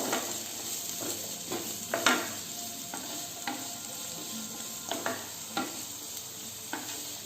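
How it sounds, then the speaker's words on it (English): Onions frying in hot oil over a medium flame, a steady sizzle with repeated stirring scrapes and light clinks spread across the stretch, moderately quiet and close, no speech. "Keep it in medium flame and fry the onions well."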